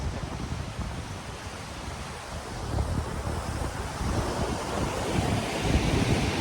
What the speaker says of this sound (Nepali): एक दुई सेकेन्ड छाल पनि हेरिदिउँ है त